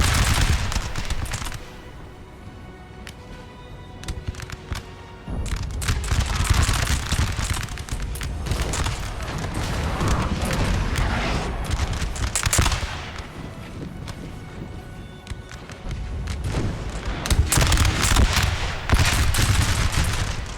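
Infantry lines fire musket volleys in a Napoleon Total War battle against the Austrians, a dense, continuous crackle of overlapping gunshots rolling on loud and steady with bursts of heavier fusillade throughout.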